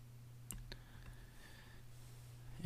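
A few faint, crisp mouse clicks in Photoshop, sparse and close against a quiet low hum, with a louder bump at the end.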